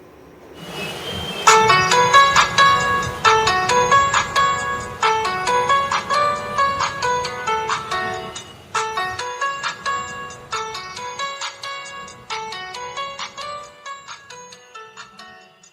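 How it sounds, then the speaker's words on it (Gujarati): An HMD 130 Music button phone plays a tune through its small speaker: bright, repeated electronic melody phrases in a steady rhythm, loud and close, fading slightly toward the end with no talking. "હવે આપણે આ આ ફોનનું સાઉન્ડ ચેક કરશું"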